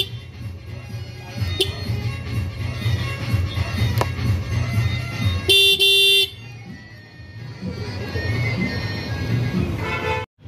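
A newly bought vehicle horn gives one loud, sustained honk of about half a second, standing out over steady road and engine noise, with people talking nearby.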